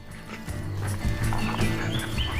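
Powerful, wild Bosnian mountain horses, an endangered breed, making close, continuous stamping and clip-clop hoof sounds with soft snorts, fairly loud and steady throughout with no talk.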